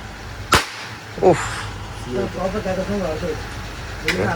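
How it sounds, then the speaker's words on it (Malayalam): Three sharp bidi firecracker bangs go off at night in Tamil Nadu, spaced well apart, with people talking in the gaps between the pops. "അതാണ് മറ്റേ ബീഡി പടക്കം അണ്ണ ഇറങ്ങി പൊട്ടിക്കണ"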